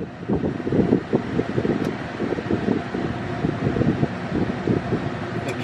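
Air conditioning fan blowing inside a white 2021 Tesla Model 3 with white leather seats: a steady, close, breathy rush of air with faint low rumbling and no talking.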